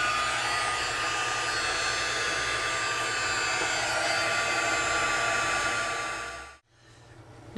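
A heat gun runs steadily while heat embossing a stamped image, giving a loud, continuous blowing whoosh that holds for about six and a half seconds, then cuts off abruptly and leaves only a faint hum.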